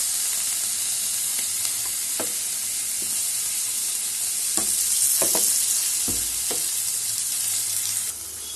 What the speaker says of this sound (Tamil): வெங்காயமும் தக்காளியும் சேர்த்து வதக்கிக்கிங்க.